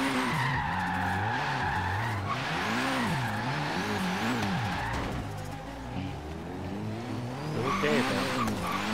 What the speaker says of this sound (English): Dude, my car is a speedy drift car.